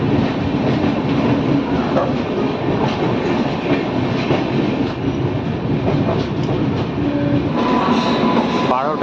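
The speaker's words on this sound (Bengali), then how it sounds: "12টা বেজে 35 মিনিটে 3 নম্বর প্ল্যাটফর্মে কিন্তু আমাদের হাওড়া পুরী এক্সপ্রেস ট্রেনটি কিন্তু এলো।" The Howrah Puri Express rolls into a platform at Kharagpur station with a loud, continuous rumble and clatter of wheels on rails, a brief squeal near the end, and voices faintly in the background.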